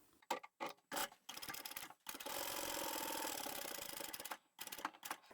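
A sewing machine stitching the flap of a foldable fabric tote bag, short whirring bursts and then one long steady run of rapid needle clatter, close and clear with no talking.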